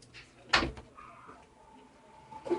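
A door at a campus tour exhibit gives one sharp knock or clunk as it opens, then a faint creak and light handling sounds. A brief quieter thud follows near the end, with faint background murmur.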